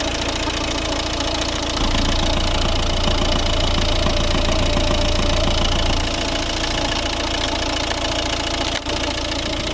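A 2011 Volvo V60 with a 1.6 D2 diesel engine idles steadily when fully warm, a close, continuous mid-pitched rumble with a faint knocking texture that deepens briefly partway through.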